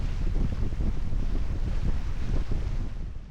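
Steady, loud wind roars across a sailboat racing around Angel Island on San Francisco Bay, with low rumbling gusts and water rush beneath, continuous and unbroken by talk.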